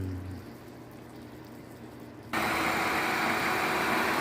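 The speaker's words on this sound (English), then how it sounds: "Engine is still running." A van engine idles during vanlife cooking on an inverter cooking system, a low steady hum that gives way to a louder, even broadband rush partway through, with no talking.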